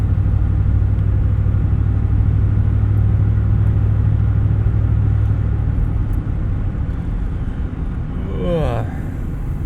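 A 1998 Ford F-150 with the 4.6L V8, 4x4 short bed, running steadily with a deep, even low rumble close by. Near the end there's a brief rising whine, and someone talks over the engine.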